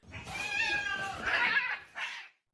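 An angry cat yowls in a long, strained, wavering cry, then gives a short sharp hiss, loud and close, with nothing else heard around it.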